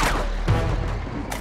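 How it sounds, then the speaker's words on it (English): Loud gunfire from Uncharted 2 rumbles in a dense, muffled barrage, close and continuous with a couple of heavier thumps through the short burst. "You do not shoot at me and live!"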